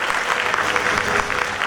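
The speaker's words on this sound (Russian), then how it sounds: "Прошу аплодисментами." Audience applause at an international New Year event, a brief burst of dense, fairly close clapping lasting under two seconds with no voices above it.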